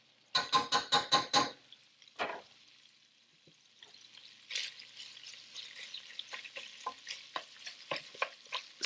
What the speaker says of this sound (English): the bacon is still being cooked. Stir it like that, make sure it's all separated